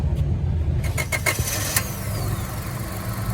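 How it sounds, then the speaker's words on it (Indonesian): A 2004 Honda Stream car engine running smoothly at idle, close by, with a brief burst of mechanical clicks early on and then a steady low hum. "Suara mesin mobil ini halus banget, nggak ada suara klep, nggak ada suara metal, nggak ada suara juga dari bearing-bearing."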